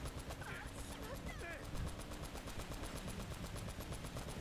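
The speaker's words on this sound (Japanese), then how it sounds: "とにかく撃てばいいね。" Rapid gunfire in the action game Uncharted, a steady stream of shots running the whole stretch under a faint in-game soundtrack, with a few short chirpy effects early on.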